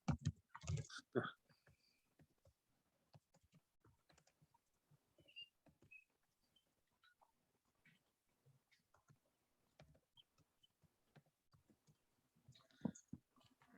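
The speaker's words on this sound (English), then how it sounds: "If I could type." Quiet, irregular typing on a computer keyboard: soft clicks and short bursts of keystrokes spread across the stretch, with a louder flurry at the start and near the end.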